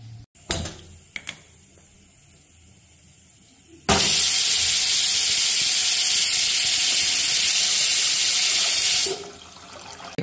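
Loud, steady steam hiss from a pressure cooker whistle venting while chickpeas and rice cook, starting abruptly after a few faint knocks and running for about five seconds before cutting off.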